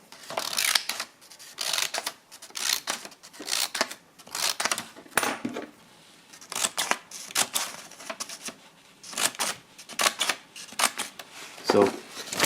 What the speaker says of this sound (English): let's cut this paper.